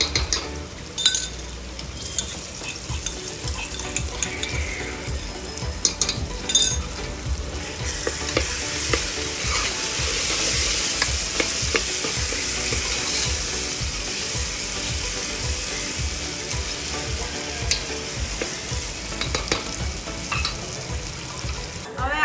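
A paste of ginger, garlic and green chili sizzles and fries in a pan for Kathiyawadi veg pulao, with steady loud crackling and repeated stirring and clinking of a utensil against the pan.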